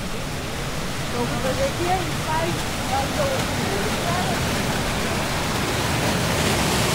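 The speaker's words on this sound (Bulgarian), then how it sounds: "כאן המים זורמים." Water runs continuously at an old village washing place in Kazanlak, a steady, full hiss like a small cascade that fills the whole stretch. Faint voices can be heard under the rushing flow.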